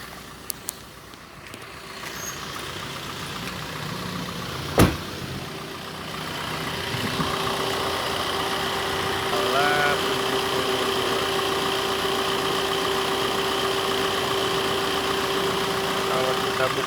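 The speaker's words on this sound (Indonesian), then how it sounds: "kalau kita di luar dengan mesin nyala" Suzuki Ertiga diesel with a VGT turbo idling outdoors, a steady low mechanical hum with a faint whine on top, one sharp knock partway through, and speech over it.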